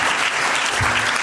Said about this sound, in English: A big applause to our wonderful panelists,